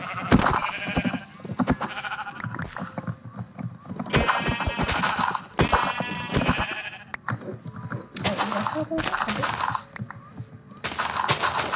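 Repeated Minecraft sheep bleats over a busy game soundscape with clip-clopping hooves and other animal calls, fairly loud and continuous.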